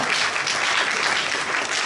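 An audience at a police training centre lecture breaks into dense, sustained applause, a loud even wash of many hands clapping with no gaps.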